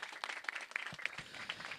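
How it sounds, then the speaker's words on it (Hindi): Applause from the audience at a Hindi theatre festival performance, a steady crowd clapping throughout with dense overlapping claps and no speech. "जोरदार तालियां"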